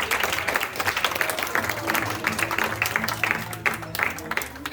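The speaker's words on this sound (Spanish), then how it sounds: "Vamos a darle un fuerte aplauso." An audience gives a hearty round of applause for a group of children, dense clapping from a nearby crowd with some voices mixed in underneath.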